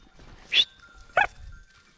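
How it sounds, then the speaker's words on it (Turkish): Goats arriving give two short, sharp bleats about half a second apart over quiet outdoor background. "Bakın bakın geldi bizim yaramaz keçiler."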